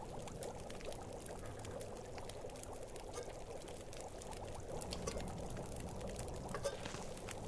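Water pours steadily and continuously for several seconds in The Long Dark survival video game, an even splashing stream at moderate level with no speech over it.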